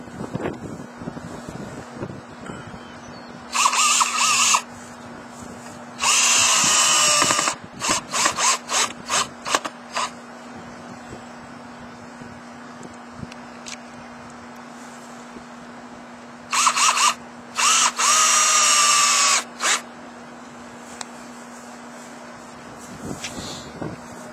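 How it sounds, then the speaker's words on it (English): A power drill drives screws through wooden rail boards into fence posts for a ranch rail horse fence, with short loud whirring bursts separated by quieter handling clicks and knocks, outdoors under a steady low hum. "That's two screws per post"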